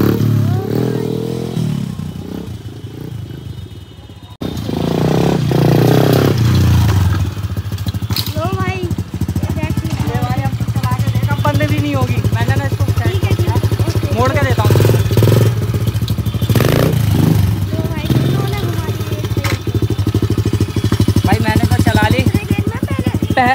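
A 125cc dirt bike engine starts and keeps running with a close, loud rattling putter at idle, with people talking over it throughout.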